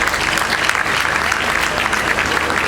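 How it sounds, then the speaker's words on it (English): Dense, steady applause from a large conference audience at a Nigerian gathering, loud and close, with no break for almost three seconds. "please give yourself a round of applause"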